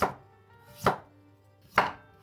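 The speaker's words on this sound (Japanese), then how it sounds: "3から5ミリくらいの厚さに切っていきます。" Kitchen knife slicing a peeled turnip into 3-5 mm slices on a cutting board, three crisp, evenly spaced chops close by, each a sharp crunch followed by quiet, no voices.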